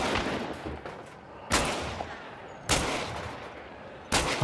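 Pistol gunfire in the video game Hunt: Showdown: three sharp, loud shots spaced a second or more apart, each cutting through a steady hiss of ambient background noise.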